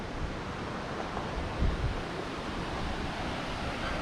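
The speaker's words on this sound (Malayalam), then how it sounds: "ഇവിടുന്ന് ഒഴുകി വന്നിട്ടാണ് അങ്ങോട്ട് ചാടുന്നത് വെള്ളം." Steady broadband rush of a rocky stream flowing toward a waterfall, continuous and fairly close with a brief louder surge partway through, no voices.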